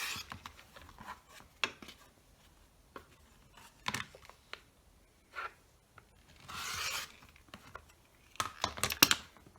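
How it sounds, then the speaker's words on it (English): Scissors cutting fabric quilt-block pieces along a drawn line to separate half-square triangle units, heard as quiet, irregular snips and rustles of cloth with short pauses between, close and soft, with no talk. "Now I'm going to cut on the drawn line to separate the half square triangle units."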